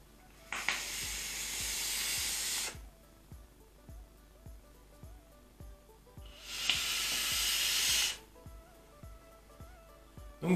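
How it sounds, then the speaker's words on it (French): A Vandy Vape Pulse BF 80 W e-cigarette with a Dead Rabbit atomizer fires with French liquid, two long close hisses of vapor, each lasting about two seconds, over faint steady ticking. "Donc maintenant on va voir si ça vape ou pas."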